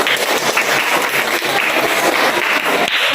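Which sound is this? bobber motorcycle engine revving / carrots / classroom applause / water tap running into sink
classroom applause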